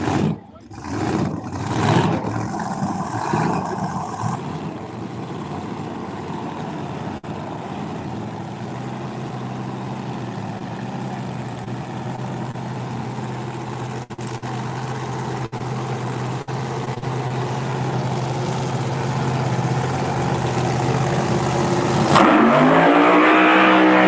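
A Pro Mod Pontiac Firebird drag race car roars with a sustained, loud engine drone after a burst of launch noise, building toward the end, with an announcer talking over it.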